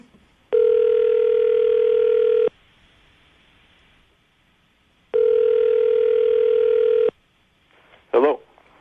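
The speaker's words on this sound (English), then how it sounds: "I'm going to dial the phone number right now, see if we can get him on the phone" Two long, loud, steady telephone ringback tones sound a few seconds apart over a quiet line, and a voice comes in at the very end.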